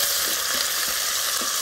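Onion fries in a pot for a spiny lobster curry, giving a dense, steady sizzle with a few light stirring scrapes beneath it.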